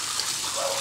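Water drained from a swimming pool running and splashing while being used for cleaning, a steady close hiss of flowing liquid.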